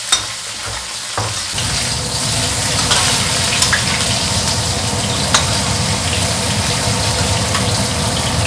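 Fish sizzles steadily in hot oil, a loud continuous crackling and spitting that starts after a brief clatter and keeps going with occasional sharp pops, the watery fish making it splatter.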